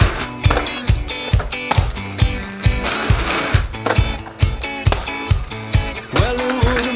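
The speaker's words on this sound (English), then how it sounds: "An alley-oop trick is when you do a soul trick, but you spin towards a rail and grind backwards." Rollerblade wheels rattle and clack along a rail in a repeated rhythmic pattern of sharp knocks over a steady grinding rasp, close and fairly loud, with no talking.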